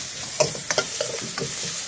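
A spoon scrapes and clinks in a pot of curry as it simmers and bubbles, during Kerala meal cooking. Several short stirring strokes sound close by.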